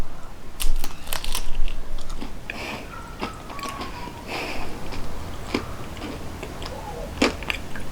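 Close crunching and biting on a brittle cannoli shell filled with chocolate chips, a few crisp cracks scattered among softer chewing sounds, with no talking.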